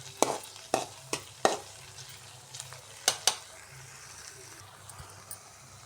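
Onions sauté in a pan for a curry, with a soft steady sizzle under sharp clicks and knocks of a spoon stirring against the pan, some in quick pairs.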